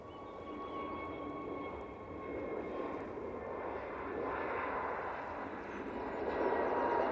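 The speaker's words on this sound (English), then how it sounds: "next out will be the Jet2 A321 Neo, I think" Jet2 Airbus A321neo jet engines spool up for takeoff at Manchester Airport, a broad, steady roar that swells gradually and holds at a moderate distance with no voices.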